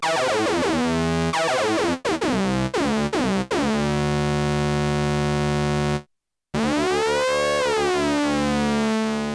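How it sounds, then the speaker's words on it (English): Buzzy oscillator sync tones from a Roland SH-4d synthesizer with sweeping, tearing harmonics, playing continuously with a few brief cutouts and a short silent gap. "Got sync for those sync style tones"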